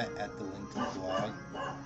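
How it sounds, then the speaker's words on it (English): A dog indoors barks and yips repeatedly in short bursts, loud and close, with a voice-like tone mixed in. "Dog!"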